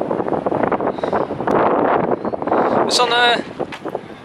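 Gusty seaside wind buffets a nearby microphone in rough, rumbling waves while a person talks over it, with a short high whistling tone near the end.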